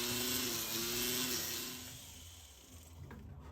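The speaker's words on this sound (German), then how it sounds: "Und wieder alles schön schleifen." A steady high-pitched whine of a small rotary tool grinding solder off a piece of jewelry, close and continuous, easing slightly toward the end.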